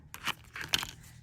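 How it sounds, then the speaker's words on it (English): Plastic card pressed and rubbed over copper metal tape, giving a few short scratchy crinkling strokes, close and quiet, with no voices. "using my card, I'm going to flatten this"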